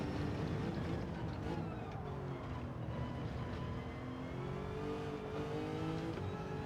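A Lexus RC F GT3 race car in Gran Turismo 7, accelerating through a turn at Lago Maggiore, its engine roaring loud and steady with rising harmonic tones throughout, no talk over it.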